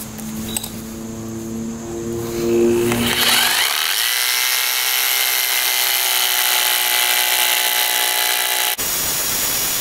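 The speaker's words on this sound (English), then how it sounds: "Because this slab isn't that wide, we're actually going to drill it probably 2-inch increments." A power drill bores holes into a stone slab before it is split with feathers and wedges, a loud steady grinding whine starting after a few seconds and running almost without a break until it cuts off near the end.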